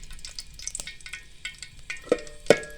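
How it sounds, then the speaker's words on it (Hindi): Cardamom pods fry lightly in homemade desi ghee, giving a soft, steady sizzle with scattered small crackles and two sharper clinks or scrapes near the end, nobody talking. "इलायची हमारी हल्की सी फ्राई हो चुकी है"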